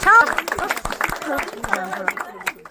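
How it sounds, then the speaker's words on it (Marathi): Family members clap together at a baby's naming ceremony, brief scattered claps mixed under lively overlapping voices. "टाळ्या वाजवा सगळ्यांनी आता नाव"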